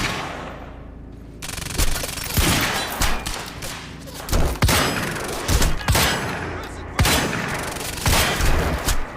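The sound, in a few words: shooting at the Kronos container in the video game Quantum Break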